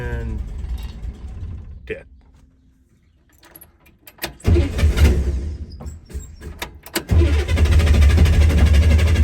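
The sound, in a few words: Corsa car engine starting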